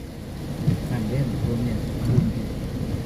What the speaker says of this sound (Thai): ฝนตกซะก่อนนะครับ